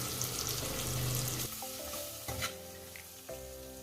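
Vermicelli fries and gets stirred in a pan with spices for upma. A steady close sizzle runs throughout, broken by a few scraping stirs and clinks, with no talking.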